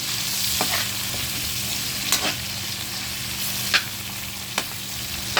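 Garlic, onion and tomato sautéing for sinigang sa miso with bangus, a steady close sizzle of frying in a pan with a few sharp stirring scrapes of a utensil throughout.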